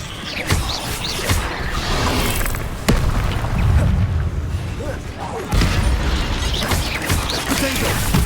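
Incendio fire spell cast in the Hogwarts Legacy video game, loud booming bursts of flame with sharp cracks at intervals over dense, continuous rumbling combat noise, and a voice speaking over it.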